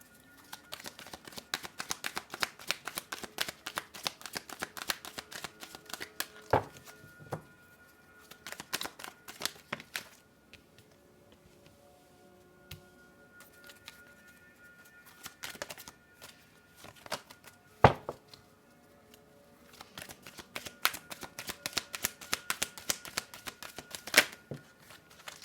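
Tarot cards shuffled by hand in repeated bursts of crisp riffling and flicking, close and fairly quiet, with short still gaps between rounds.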